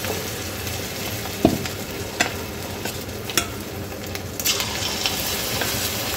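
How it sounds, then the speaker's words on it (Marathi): Cabbage manchurian balls dropped one at a time from a spoon into hot oil, a steady close sizzle with a few sharp pops and splashes as each ball goes in, no voices. "इथे आता आपलं तेल झालेलं आहे गरम. आता इथे आपण एक मंचुरियन सोडून घेणार आहे"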